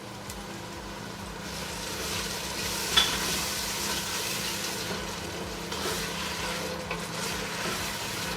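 Diced tomato is stirred into a sizzling spinach and potato curry in a pan. A steady frying hiss carries one sharp knock early on and soft stirring scrapes throughout.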